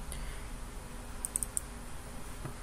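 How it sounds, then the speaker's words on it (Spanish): A few quick, faint mouse clicks sound while creating a database in Microsoft Access, clustered closely together over a quiet background hiss. "así que le damos clic acá"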